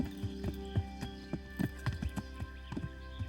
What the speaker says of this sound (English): Horse does not like going up the mountain.